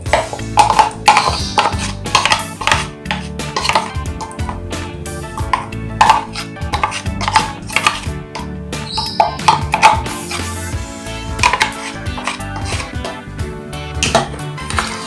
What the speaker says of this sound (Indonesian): Aduk rata biar atinya itu semua ketutup sama bumbu